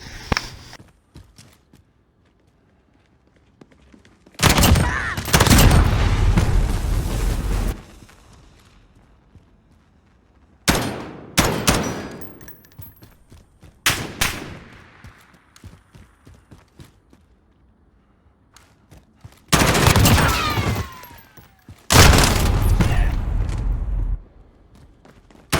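An M4A1 rifle fired without a compensator, heard as several loud, close bursts of gunfire separated by quiet gaps, each burst ringing out briefly before fading.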